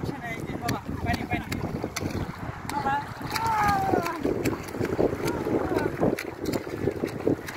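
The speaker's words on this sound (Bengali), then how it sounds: "হ্যাঁ আজকে ঢেউ বেশি, বাতাসও বেশি" Strong wind buffets the microphone while sea waves wash in at Castellammare beach in Italy, a steady loud roar throughout with people talking underneath.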